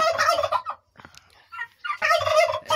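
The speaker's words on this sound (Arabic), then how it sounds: "الديكين مبهدلين بعض بطريقة صعبة، بيضربوا بعض جامد جدا" Turkey toms fighting, with loud rapid gobbling bursts at close range, separated by a short near-silent pause.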